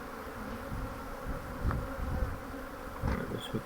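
A dense, steady hum of many honeybees buzzing close by as they are shaken into a hive, with a few louder passes and soft knocks under the swarm.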